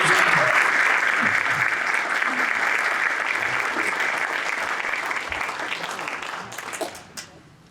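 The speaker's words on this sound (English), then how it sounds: "A round of applause for Mr. Bob Luckman." A crowd applauds at a Pearl Harbor remembrance ceremony, a thick continuous wash of clapping that fades out over the last second, with a few scattered voices underneath.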